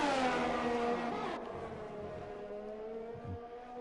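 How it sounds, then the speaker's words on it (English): A race car engine in a USA Grand Prix racing game over-revs with a high, buzzing whine, then sinks in pitch and settles into a steady drone, loud and continuous with no talk. "A little bit of over revving the car there"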